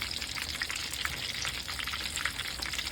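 Thick-cut pork chops for katsu fry slowly in oil over turned-down heat, giving a faint, steady, dense crackle with no voices.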